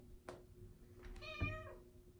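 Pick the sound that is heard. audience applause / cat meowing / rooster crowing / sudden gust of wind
cat meowing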